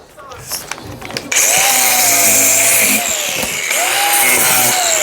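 An angle grinder whines up loudly and keeps cutting through packing tape with a high, steady scream that dips and rises as it bites, preceded by brief rustling.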